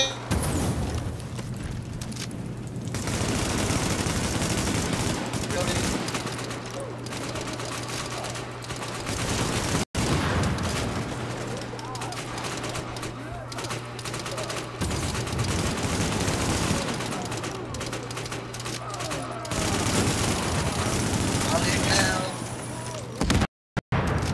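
Rapid automatic gunfire and explosions in Tom Clancy's The Division, bursts rattling on and off across the stretch with a player talking excitedly over the shooting.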